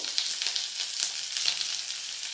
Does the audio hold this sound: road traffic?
no